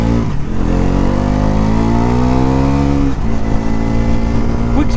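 A Bajaj Pulsar NS400Z motorcycle rides past, its engine note rising and sweeping in pitch over five seconds, loud and steady with a brief dip near the three-second mark.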